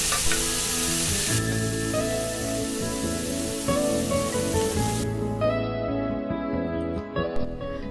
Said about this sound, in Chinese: 西兰花已经炒了7、8分钟了，差不多也熟透了。